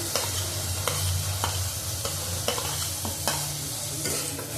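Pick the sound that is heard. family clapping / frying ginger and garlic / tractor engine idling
frying ginger and garlic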